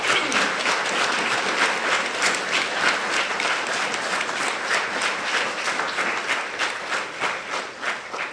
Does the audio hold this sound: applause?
yes